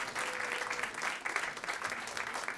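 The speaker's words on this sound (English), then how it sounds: "Give her a round of applause." Steady audience applause greets a panelist, a celebrity chef and cookbook author, at a Stop Food Waste Day panel; dense, even clapping fills the whole short stretch with no speech over it.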